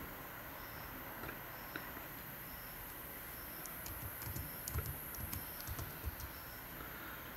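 Keys on a computer keyboard are tapped to enter a one-time passcode, producing quiet, scattered clicks that cluster in the second half against a faint background hum.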